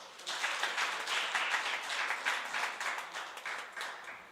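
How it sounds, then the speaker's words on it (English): An audience at a prize giving ceremony applauds, a dense, even wash of many hands clapping that holds steady for several seconds with slight swells and no voices. "Can you give the GP Fund a round of applause?"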